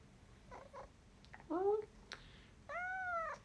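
Two distinct meows from a male cat being picked up, the second longer and louder, with a few faint shorter mews before them over quiet room noise.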